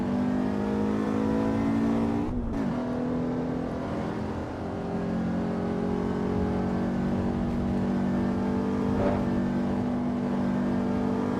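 Race car engine in the racing game Assetto Corsa Evo, a sustained droning rev that dips briefly with a gear change, then holds a steady buzzing tone alone.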